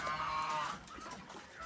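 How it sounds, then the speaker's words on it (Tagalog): A single close goat bleat on a small farm, a short wavering cry at the start that fades into quieter background noise. "Ayan si kambing natin"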